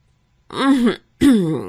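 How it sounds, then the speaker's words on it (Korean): Two throat clearings in quick succession, close and distinct, with a short silence between them. "무한한 기색으로 헛기침을 하시더군요"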